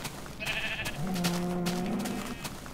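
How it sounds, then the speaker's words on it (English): Minecraft sheep bleating in the video game, a couple of wavering, drawn-out baas close by over faint background sound, no talking. "I hear more sheep around here."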